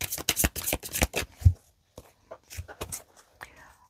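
Tarot cards shuffled by hand for a cross spread, a rapid riffle of papery flicks up front, then softer scattered card taps and handling noises, with a faint whisper near the end.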